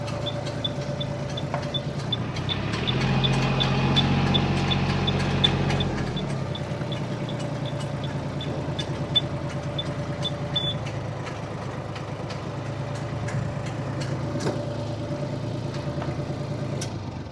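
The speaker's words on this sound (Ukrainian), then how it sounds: "Можемо запустити ґрунтофрезу. Запустили ґрунтофрезу." A Japanese MT241 tractor engine runs steadily with its rotary tiller churning along, a heavier loaded rumble for several seconds before settling back to a constant drone.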